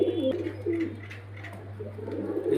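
Pigeons kept for sale at Beldanga coo softly in low, repeated throaty calls. A steady low hum runs underneath the birds.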